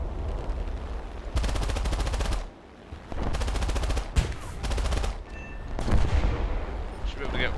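Anti-aircraft flak fire in the game War Thunder: loud bursts of rapid, buzzing automatic cannon fire in several long strings separated by short pauses, punctuated by heavier booms.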